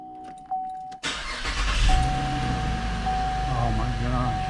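A 2015 Chevrolet Camaro, its battery recently disconnected, cranks briefly and catches, and the engine settles into a steady, close idle with fan or air-conditioning whoosh. A steady electronic chime sounds throughout and people talk quietly.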